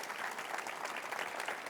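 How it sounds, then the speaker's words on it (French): An audience at a bilingual evening church service claps together, a dense, even burst of applause filling the space without a break. "Et est-ce qu'on peut les applaudir ce soir?"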